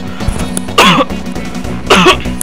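Two harsh, raspy throat-clearing coughs from a gamer during a Super Mario RPG session, close and loud, about a second apart over quiet background game sound.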